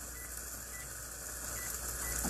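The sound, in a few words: microwave heating minute rice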